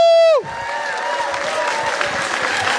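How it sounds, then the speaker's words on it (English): Crowd applauds and cheers for Imam Safe at a Somali community gathering in Minnesota, a dense, steady wash of clapping and whoops that swells after a tone cuts off and holds for several seconds. "give one more round of applause to Imam Safe for that beautiful words"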